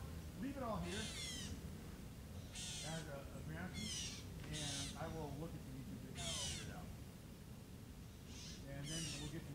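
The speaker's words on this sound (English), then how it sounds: "I'm just listening to the birds." Outdoor bird calls in a swamp ring out in repeated bursts, harsh cawing cries spaced a second or two apart over a quiet background hum.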